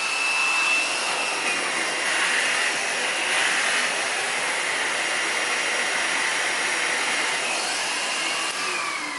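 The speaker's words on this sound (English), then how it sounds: "So as you can see with Henry cordless, this spins up, but not very fast" A Henry cordless vacuum cleaner runs with a steady, close, high-pitched motor whine that holds level throughout, with no talking.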